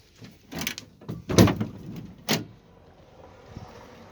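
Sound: camper bus door opening

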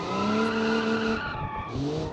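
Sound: car tires skidding under hard braking in BeamNG.drive video game

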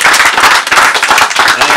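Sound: audience applauding a company

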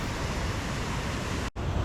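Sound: waterfall Probiy in Yaremche, water crashing down

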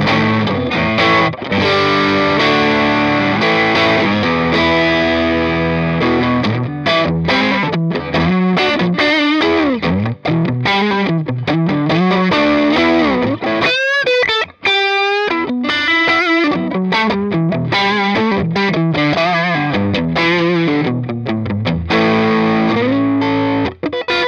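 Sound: guitar on neck pickup through Fender Blues Jr amp

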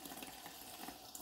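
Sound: water running from a kitchen tap onto pork casing

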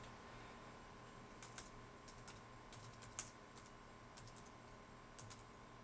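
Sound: typing on a PC computer keyboard

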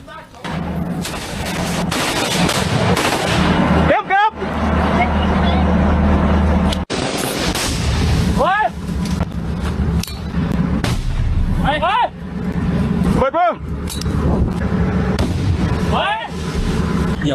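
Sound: gunfire in combat footage of soldiers with M16A1 rifles

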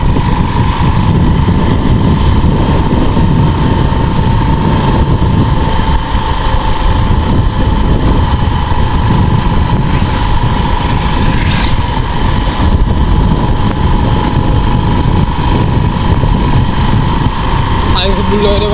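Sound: motorcycle engine while riding

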